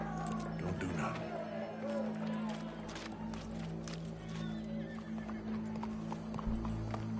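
Horse hooves clip-clop steadily in the video game Red Dead Redemption 2, a continuous rhythmic patter under an ambient game soundscape with a crowd murmuring faintly.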